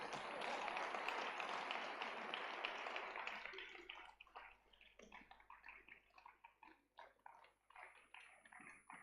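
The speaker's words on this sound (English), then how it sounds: "If you clap for them, they will clap for you." An audience applauds at a fellowship awards event, with dense clapping at first that thins into scattered, irregular claps from fewer people, fairly faint and distant.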